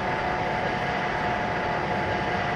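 Train running steadily in Train Simulator on the Strasbourg–Karlsruhe route, a DB InterCity slowing toward 80 km/h: a continuous broadband rumble with a faint steady tone on top and no speech.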